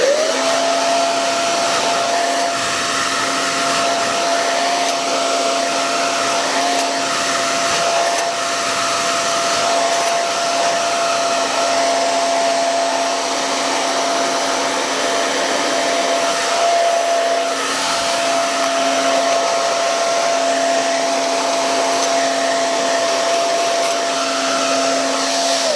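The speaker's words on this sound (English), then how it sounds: "you just take your dryer and the brush and pull it as such and dry right in there" A hair dryer blows steadily at close range on a man's hair, used with a brush in a barbershop, a constant whirring hum with a high whine, running without pause.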